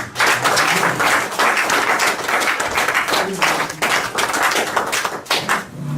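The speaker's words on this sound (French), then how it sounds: "Si nous pouvons applaudir cela." A church congregation applauds together during a service, dense sustained clapping from many hands filling the room for several seconds, with slight dips and a faint voice underneath.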